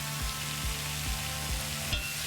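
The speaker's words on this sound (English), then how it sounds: "I'm just going to give it a quick little stir." Smashed, peeled garlic cloves sizzle in a frying pan while being stirred, a steady close frying hiss with regular soft scraping strokes about every half second.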